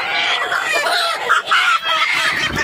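Chickens squawk and cluck loudly as they are caught by hand at a poultry market, agitated overlapping cries close by with a few sharper bursts.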